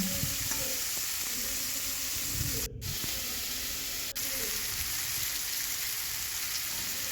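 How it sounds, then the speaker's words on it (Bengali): Five-spice seeds and potatoes frying in oil: a dense, loud, continuous hiss and sizzle close by with a low rumble underneath, briefly interrupted twice, and no talking. "এই তেলের মধ্যে আমি পাঁচফোড়ন আর আলুটা ভেজে নেব"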